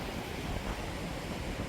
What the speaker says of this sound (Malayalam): പടിഞ്ഞാറൻ കാറ്റ് ഇവിടെ അടിക്കുന്നുണ്ട്.